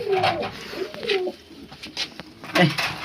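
Domestic pigeons being paired up coo close by in soft, throaty repeated calls, several overlapping phrases rising and falling over about three seconds.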